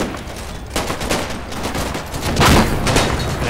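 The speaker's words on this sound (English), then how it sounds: "that was my 50 mil. It's opening up this high explosive rounds" A 50 mm gun in the World War II game Combat Mission: Battle for Normandy fires high-explosive rounds in a dense, continuous volley of loud blasts and crackling impacts.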